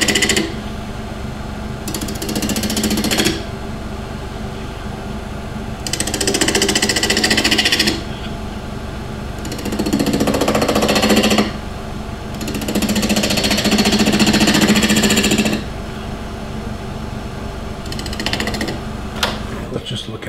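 A wood lathe turns an off-center tea light blank, its motor hum steady beneath bursts of loud scraping and chattering as the tool bites in and out, with pauses between cuts.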